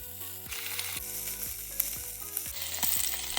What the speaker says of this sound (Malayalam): അടുത്ത് നമുക്ക് ഫിഷ് ഫ്രൈ ചെയ്തെടുക്കാം